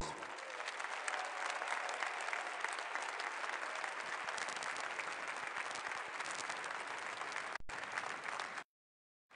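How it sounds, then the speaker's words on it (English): Applause from a large crowd at the 2019 AIPAC policy conference, loud continuous clapping sustained for about eight seconds before cutting off abruptly. "Now that deserves enormous applause."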